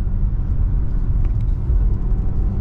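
A Tesla Model 3 on winter tires drives steadily with a low, continuous road rumble and engine hum, no voices.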